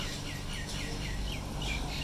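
Small birds chirp at a seed feeder with a dish of seeds, their repeated short calls fairly close and steady over a constant outdoor hum, with no talking.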